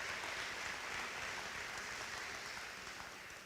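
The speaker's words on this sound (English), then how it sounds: "Let us keep that round of applause going for all of our retirees." Sustained applause from a convocation audience honoring retiring college staff, a dense, steady wash of clapping that holds at an even level and fades slightly at the end, with no talking over it.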